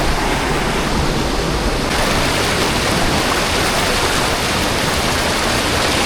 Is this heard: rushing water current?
yes